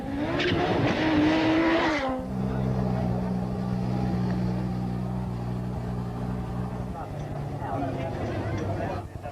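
Audi Sport Quattro S1 rally car at the Rally of the 1000 Lakes, its engine loud and close, climbing in pitch before settling into a steady, droning tone.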